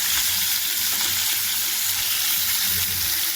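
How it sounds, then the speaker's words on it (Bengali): Hilsa fish pieces go into hot oil, producing a dense, steady sizzle, close and fairly loud throughout with no voices. "মাছগুলো, ইলিশ মাছগুলো আমি তেলে দেবো, সব মাছগুলো আমি তেলে দিয়ে দেবো।"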